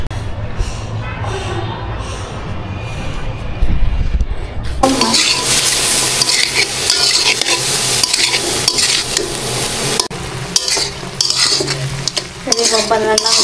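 Chicken cooks without oil or spices while a utensil stirs it in a pan, giving loud, continuous scraping and clattering against the metal over a soft sizzle, with a quieter stretch at first.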